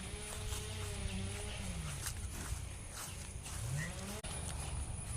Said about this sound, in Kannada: ನೋಡಿ ದನವನ್ನು ತಂದು ಕಟ್ಟಿಯಾಯಿತು